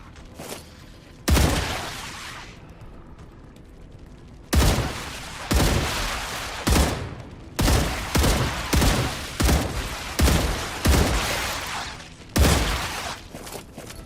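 A gun is test-fired in the video game StarRupture: a first loud blast, then a rapid string of forceful shots in quick succession, each with a short ringing tail.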